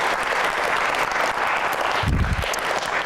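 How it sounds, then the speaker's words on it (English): Audience at the SteelCity Codefest applauding the event sponsors, a steady dense wash of clapping filling the room, with a brief low rumble near the end. "So another round of applause for all of them"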